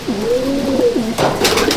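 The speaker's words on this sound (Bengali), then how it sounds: "আমার ঘরের দাসু জিরিয়া পায়রা" Close, clear cooing from a Dasu Jiriya pigeon in a home loft, long gliding coos running in a steady series with a brief burst of rustling partway through.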